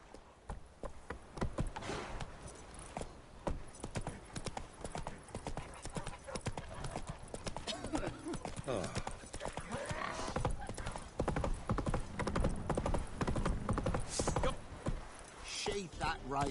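Hooves of the horse Roach galloping in The Witcher 3, a fast continuous clip-clop rhythm pounding on the ground, close and loud, with background game sounds and occasional voices talking over it.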